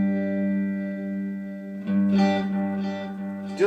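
An electric guitar runs through two delay pedals with the reverb switched off, a sustained chord ringing steadily, then fresh picked notes whose repeats echo and overlap as they fade.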